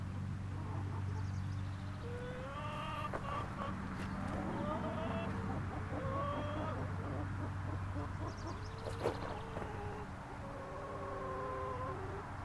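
Chickens cluck and trill in soft, warbling calls over a low rumbling background, with faint voices occasionally mixed in.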